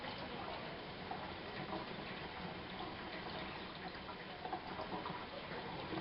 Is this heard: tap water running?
yes